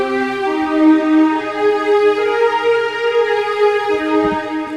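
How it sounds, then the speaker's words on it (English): A hybrid strings 15 preset in the Xenology synth plays a pluck melody, bright stacked tones held in a steady line with a few low thumps near the end, loud and alone with no voices. "But this time it's hybrid strings 15 in Xenology"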